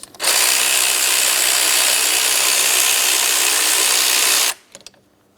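A power tool or ratchet runs in one loud continuous burst for about four seconds while removing an engine mount bracket bolt on a 2004-2008 Pontiac Grand Prix, then stops, followed by a few small metallic clicks.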